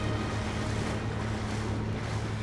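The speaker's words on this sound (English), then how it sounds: "this is the point where the Congo River and the Atlantic Ocean meet" Steady broadband wash of ocean surf and wind where the Congo River meets the Atlantic, heard from a boat, with a low engine-like hum running continuously underneath and no voices.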